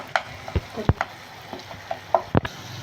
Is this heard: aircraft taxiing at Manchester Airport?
no